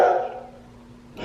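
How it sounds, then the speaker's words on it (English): Dogs barking near a beach house at the start, a short burst of barks that fades into quiet background before a brief noise at the end. "I don't even know what they're barking at."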